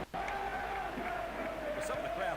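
In PES 2005, a stadium crowd surges in a loud sustained roar of anticipation at a near goal, a broad swell of massed voices holding steady throughout.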